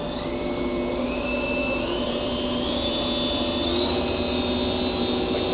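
Spindle of a Milltronics VM2016 vertical machining center running at about 2,000 RPM, a steady close whine with rising tonal pitch steps over a continuous mechanical hum, heard alone.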